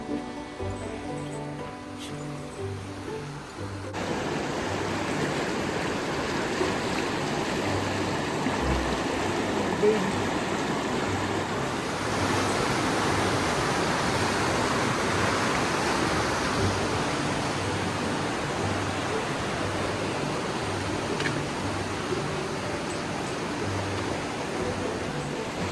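A river rushes in Cuyahoga Valley National Park, a steady broadband roar of fast water heard up close and loud for the whole stretch. The opening few seconds sound quieter and thinner before the full rush takes over.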